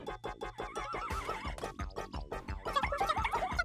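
A horse whinnies in the video game Miitopia, a loud, wavering neigh rising and falling over several seconds, with clip-clopping hoof-like beats underneath and no speech.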